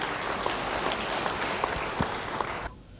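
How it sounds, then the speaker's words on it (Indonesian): Applause from a church congregation during a sermon, a dense, steady clapping that holds for about two and a half seconds and then stops abruptly. "Beri tepuk tangan bagi dia."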